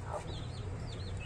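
A broody hen hatching eggs clucks softly in short warbling calls over a steady low rumble, close by with no voices.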